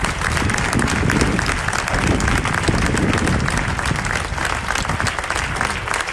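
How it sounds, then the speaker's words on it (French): Loud, dense applause from a large audience for a qualification jury, a continuous roar of many hands clapping at once that holds steady throughout with no speech. "Ils vous entendent si vous les applaudissez bruyamment maintenant."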